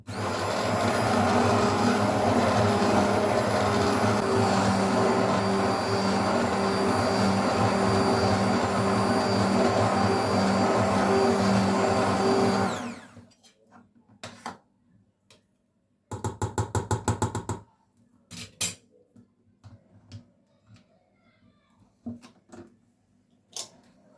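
A kitchen blender purees cooked tomatoes with a little water for tomato soup, running loud and steady for about thirteen seconds before cutting off, followed by a few short bursts and clicks.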